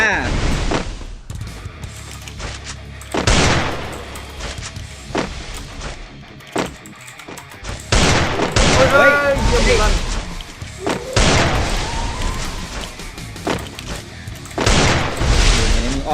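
Desert Eagle pistol fire in the video game Free Fire: loud, booming shots at intervals among other game effects, with people talking excitedly over the action.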